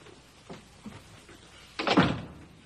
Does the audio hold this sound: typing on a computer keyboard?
no